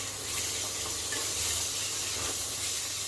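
Cumin and black pepper roasting in hot oil, a steady close sizzle and hiss with no voices.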